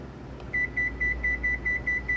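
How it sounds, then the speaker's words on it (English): A kitchen oven timer gives eight short, evenly spaced electronic beeps, clear and close, while the timer is set to 30 minutes for a veggie egg bake. "So I'm going to go ahead and set the timer for 30 minutes."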